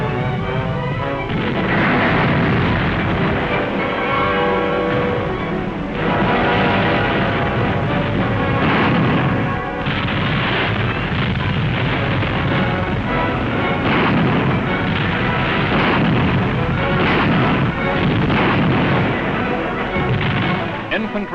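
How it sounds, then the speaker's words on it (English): Heavy anti-aircraft guns fire again and again in a wartime barrage near Emden, the booms rolling and overlapping under an announcer's voice and archival music. "Heavy ack-ack opens the drive to outflank Emden."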